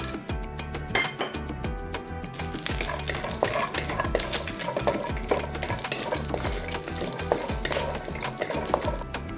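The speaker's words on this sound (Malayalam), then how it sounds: "നമ്മുടെ ആ ഒരു കാഷ്യൂ നട്ട് ഒന്ന് വറുത്ത് കിട്ടാൻ വേണ്ടിയിട്ട്" Cashew nuts frying in ghee in a pan, giving a steady close sizzle under repeated scraping and stirring of a spoon against metal, with faint clinks and no voices.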